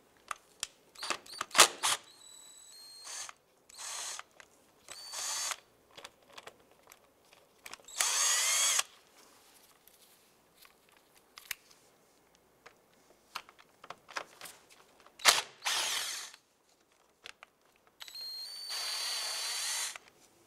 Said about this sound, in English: Now there's four T25s Torx screws holding the upper airbox together. Let's go ahead and get those loosened and removed.